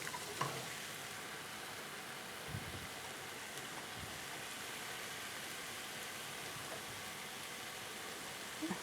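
Cooked rice stir-fried with garlic in a pan for Chinese black olive fried rice, a faint, even frying hiss that runs throughout with a few soft scraping knocks.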